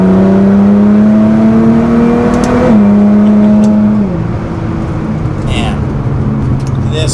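A 600 WHP R35 Nissan GT-R Premium pulls hard in fifth gear, its engine drone climbing steadily in pitch for about four seconds before easing off, loud and close with someone talking over it.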